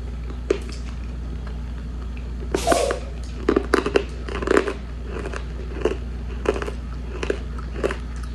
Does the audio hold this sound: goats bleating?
no